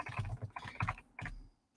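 Someone types on a computer keyboard, a quick run of soft, close clicks with brief pauses between bursts, ending in a short silence.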